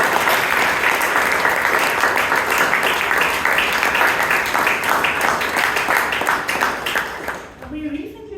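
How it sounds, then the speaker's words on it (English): A Toastmasters club audience in Bangalore breaks into sustained, dense applause for the meeting's role takers and speakers, loud and steady for several seconds before fading out near the end. "Can we have a big round of applause for all the role takers and speakers who came"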